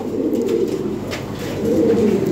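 Lahori pigeons, a breeding pair, coo in soft, continuous low murmuring throughout, close by and steady, with no talk over them.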